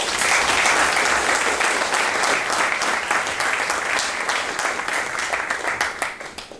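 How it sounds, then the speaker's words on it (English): Audience applause at a science pitch event in Tokyo fills the room steadily, a dense sustained clapping that stays loud throughout and tapers slightly toward the end. "let's thank them all once again with a big round of applause."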